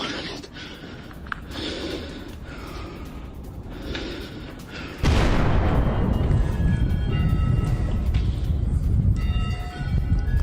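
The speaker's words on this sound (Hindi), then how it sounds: "डोमिशन कैथेड्रल पर गिरी मिसाइल" Missile strike hitting the Dormition Cathedral in Kyiv: a dense, loud burst of broadband rumble erupts midway through the clip. It follows several seconds of lower crackling noise and stays heavy and sustained to the end.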